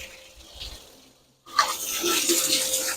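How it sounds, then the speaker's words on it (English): Water runs through a Pontiac radiator being flushed out, a quiet hiss giving way after a brief silence to a steady splashing rush of flowing water, close by and with no voices. "Clean out that radiator. So I can see clear water running through"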